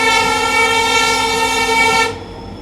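Indian express train rolling on ICF coach bogies over the track behind a WP4 locomotive, a loud, steady rumble with strong tonal ringing throughout, cut off abruptly near the end.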